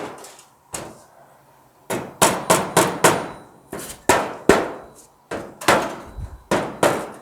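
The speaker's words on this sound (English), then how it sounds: "Where's your rubber mallet?" A rubber mallet knocks a door panel into place on a 1940 Ford Coupe-inspired hot rod during a power window motor install. The blows land close and loud in quick clusters of three or four, separated by short pauses, with no talk.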